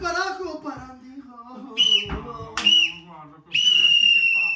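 Referee's whistle used during a home football match, blown in several sharp, loud blasts, the last one long and sustained, interleaved with excited shouting voices close by.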